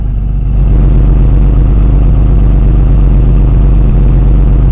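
A car engine idles steadily with a low, even exhaust rumble and no misfires, loud and close, with no breaks in the rhythm.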